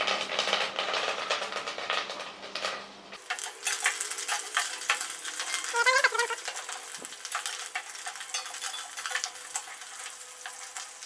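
Mustard seeds, cumin, fenugreek, garlic and curry leaves fry in hot oil for sambar, a dense crackling sizzle with rapid popping and spitting that grows busier partway through, close and steady with no talking.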